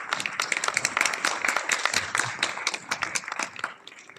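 An audience applauds to welcome a speaker at a brain fitness technology event, a moderate, uneven burst of individual hand claps, fairly close and without talk, tapering slightly near the end.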